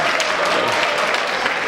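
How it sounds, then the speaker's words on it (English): Studio audience applause on a late-night talk show, a dense, steady wash of many hands clapping close up, filling the whole moment without any voices on top. "You get applause for that, yes."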